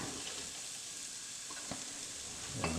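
Chopped onions fry in oil, a faint, even hiss with a couple of soft stirring taps and a brief clatter at the end, with no voices.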